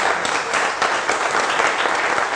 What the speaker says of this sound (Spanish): Por eso yo pido un aplauso para Guillermo y los que han hecho posible